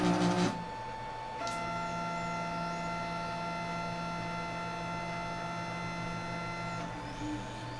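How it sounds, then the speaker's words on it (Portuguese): A 3D printer starts a print, giving a steady tonal motor hum with sustained whines after a brief louder start, running evenly with no talking. "E agora ele vai começar a imprimir."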